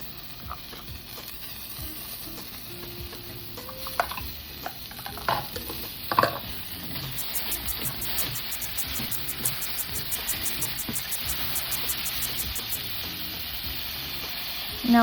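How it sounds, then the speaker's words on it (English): A vegetable mix fries and sizzles in a pot while being stirred, a steady hiss with intermittent scraping and clinking of the spoon, and a rapid fluttering crackle building in the later half. "Add your veggie mix and mix for about 1 minute."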